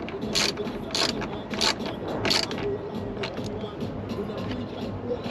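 A ratchet wrench tightens a 10mm nut on the side mirror of a 2004–2008 Nissan Maxima, giving several short bursts of sharp, close clicking with brief pauses between them.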